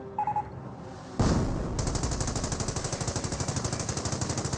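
Rapid, sustained machine gun fire from an emplacement in the Company of Heroes real-time strategy game, a steady rattling burst of shots that starts abruptly after a brief quiet and continues without pause.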